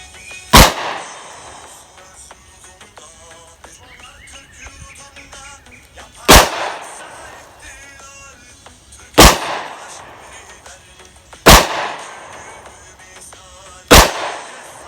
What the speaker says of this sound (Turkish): Atış yapacağım bakalım nasıl gözükecek, ne kadar etki yapacak.